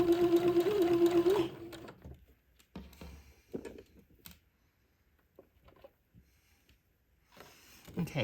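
A sewing machine runs a zigzag stitch along an entre-deux seam on a baby layette, whirring steadily for under two seconds before stopping, followed by faint handling noises and light clicks.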